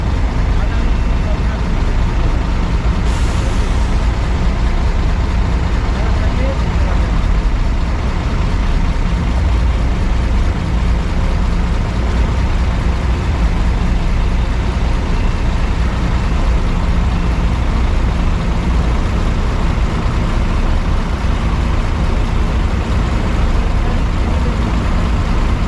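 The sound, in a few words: crane loading steel pipes onto a truck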